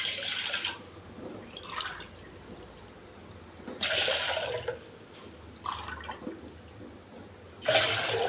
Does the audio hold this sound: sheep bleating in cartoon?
no